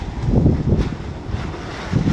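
Gusty wind buffeting across a shipyard in bad weather, a rough, low rushing roar with uneven surges and microphone buffeting, close and fairly loud with no other clear sounds.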